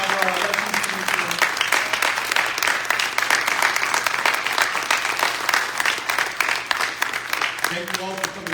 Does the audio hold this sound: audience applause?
yes